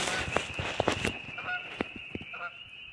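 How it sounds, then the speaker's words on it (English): Large geese honk near a lake in Canada, a run of loud, close, repeated calls in quick bursts against a steady outdoor background. "There's huge birds that are getting mad at me for some reason."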